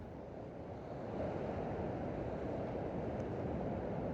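Continuous roar of sea surf breaking, steady and fairly loud, with wind noise mixed in and no voices.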